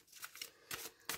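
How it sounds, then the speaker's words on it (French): Tarot cards are shuffled and drawn by hand in a few quick, crisp riffling bursts separated by brief pauses. "Donc je vais tirer 3 cartes là pour"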